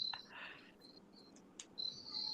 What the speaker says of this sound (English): What you're hearing is yes, indeed, crickets.